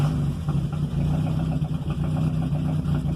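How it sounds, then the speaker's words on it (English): A Mazda Miata engine idles close by with a steady low rumble and a slightly uneven, pulsing rhythm from a poorly running idle, no voices over it. "it's the first time you guys will see it actually idling now"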